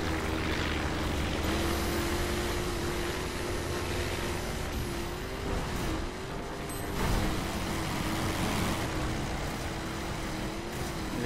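Propeller airplanes drone overhead in the racing video game The Crew, a steady, moderately loud engine hum with slight pitch wobbles that continues throughout, with no voices.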